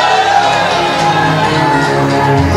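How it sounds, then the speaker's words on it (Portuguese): A church congregation at a revival service shouts "glória" in a loud, sustained burst of massed voices and whoops that fills the room from start to finish. "O primeiro que tiver coragem de dar um grito de glória vai receber."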